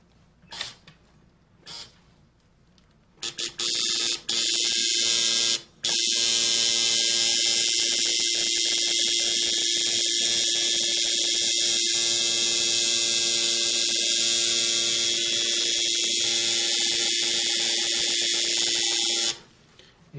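A tattoo machine drawing a slow line runs as a loud, steady electric buzz for most of the stretch, starting after a few seconds of quieter handling and cutting off near the end.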